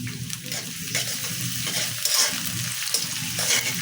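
Chopped onion and ginger-garlic paste fry in oil with a loud, continuous sizzle and bubbling, joined by occasional scraping from stirring, close up and steady throughout.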